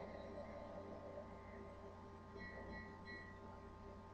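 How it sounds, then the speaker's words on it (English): A train in the video game Spider-Man 3 rumbles past at a distance, a steady low drone with faint higher tones drifting over it. "Another train."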